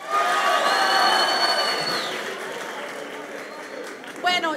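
An audience at a Campus Party tech event applauds and cheers, a broad wash of crowd noise that starts strong and gradually fades, with a host's voice coming in briefly near the end.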